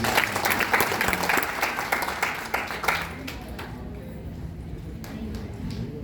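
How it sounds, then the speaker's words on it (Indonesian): An audience applauds with brisk, steady clapping that tapers off after a few seconds, while an Indonesian-speaking voice carries on speaking underneath. "Tepuk tangan buat dia."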